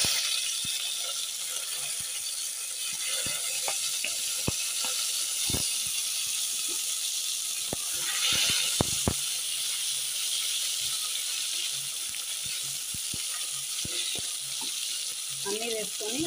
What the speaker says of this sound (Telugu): అన్నీ వేసుకొని ఒక 3 మినిట్స్ బాగా కలుపుతున్నాం ఫ్రెండ్స్.